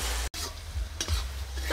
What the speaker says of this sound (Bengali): আর একটু হালকা করে ভেজে নেব